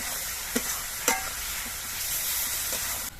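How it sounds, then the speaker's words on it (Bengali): Chili paste, ground spices and potatoes stir-frying in a pan, a dense continuous sizzle with a couple of sharp spatula scrapes up close and no talking. "সেই লঙ্কা বাটা এবার মশলা দিয়ে আলু দিয়ে বেশ কিছুক্ষণ কষিয়ে নিতে হবে"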